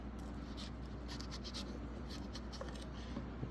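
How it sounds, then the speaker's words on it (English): A knife blade pressed flat and dragged across a halved chili to scrape out the seeds, a faint, close, continuous scratching and rubbing over a steady low background hum. "We're going to remove the seeds, just push the knife down flat,"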